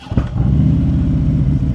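A 2024 Harley-Davidson Road Glide motorcycle engine fires up close by, settling into a loud, steady, deep rumbling idle with a lumpy low throb.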